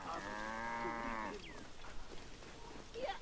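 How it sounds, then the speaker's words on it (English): A big cow in Assassin's Creed Origins gives one clear, drawn-out moo lasting about a second, followed by quieter rustles and faint animal sounds in the background. "It's a big old cow."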